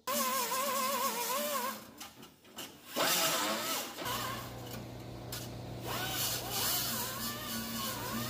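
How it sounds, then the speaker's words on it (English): An abrasive disc grinds across sheet metal on a 1969 Ford E100 Econoline van, a harsh whirring rasp that rises and falls in pitch with a brief pause midway, then resumes steadily up close. "This is just going to clean up the metal"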